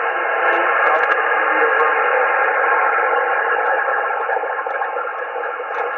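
Amateur radio receiver hiss fills a narrow band steadily and loudly, with a weak station buried deep in the noise, faint garbled fragments barely poking through before it cuts off abruptly.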